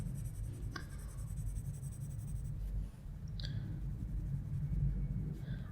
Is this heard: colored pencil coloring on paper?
yes